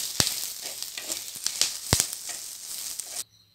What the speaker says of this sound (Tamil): புளி சேர்த்துட்டு ஒரு 2 செகண்ட் வதக்கிடுங்க.